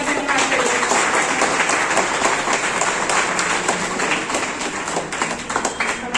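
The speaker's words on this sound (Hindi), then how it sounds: "एक बार जोरदार तालियों से हमारी मैम का धन्यवाद करेंगे" An audience at a District Legal Services Authority programme claps in a dense, sustained round of applause that continues throughout and tapers slightly toward the end, with a little crowd murmur mixed in.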